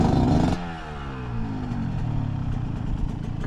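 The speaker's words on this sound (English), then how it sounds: "Listen how this 300 just chugs through here. Super low RPM." 2023 Beta 300 RR Race Edition two-stroke dirt bike working through gnarly terrain, a loud burst that drops into a steady, low, lugging engine beat with clattering texture and slight rises in pitch, close by with no talking.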